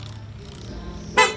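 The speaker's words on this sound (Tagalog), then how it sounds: "Sa busina ni sir, kinabit natin PIA auto style horn." An aftermarket PIA auto-style horn fitted to a Honda ADV160 scooter gives one short, loud honk at the end, after a low background rumble.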